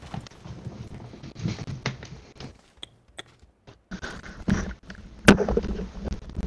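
Machine gun in a video game firing in short, irregular bursts of sharp pops and cracks, separated by brief pauses and ending in one loud, close blast.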